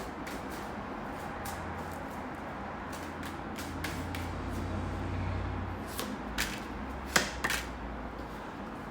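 Tarot cards are shuffled by hand in a series of soft, quick flicks and riffles, scattered irregularly and faint over low room hum, with a slightly sharper snap near the end.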